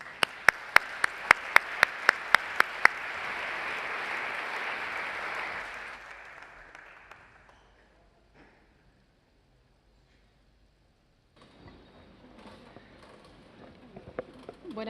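An audience applauds the guests at a book presentation event with dense, sustained clapping that fades out after several seconds, leaving near silence before a few scattered claps return.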